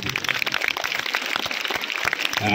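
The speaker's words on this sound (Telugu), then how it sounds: "చేతులు ఉన్న వాళ్ళు చప్పట్లు కొట్టారు" An audience claps at Karthika Deepotsavam at Sri Matam, a dense, continuous patter of many hands throughout, moderately loud and with no talk.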